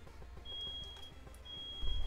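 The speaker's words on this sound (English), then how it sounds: "I don't know if you guys can hear that fire alarm." A household fire alarm sounds two long, piercing electronic beeps separated by a pause. The tones are fairly faint over low background rumble and are heard alone without talk.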